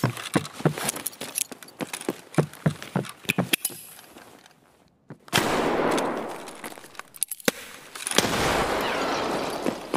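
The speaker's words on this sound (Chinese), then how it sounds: "我听到对方这个枪声，我当时就慌了，是一把打肉弹的毛喷" Shotgun fire in Escape from Tarkov, a pump gun loaded with buckshot, comes as a rapid string of sharp repeated blasts in a tense indoor firefight, followed by a pause and then sustained dense noise.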